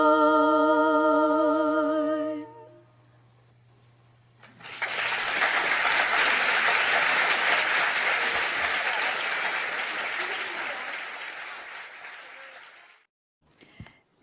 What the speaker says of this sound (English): And there's the applause